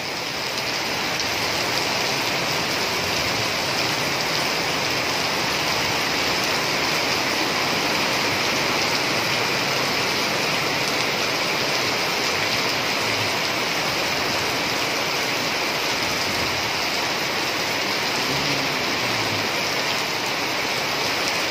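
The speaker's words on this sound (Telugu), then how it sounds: "అసలు తగ్గుతలేదు వర్షం." Heavy rain pours down in Nidadavolu in a dense, unbroken roar, loud and constant throughout, with no voices or other sounds breaking through.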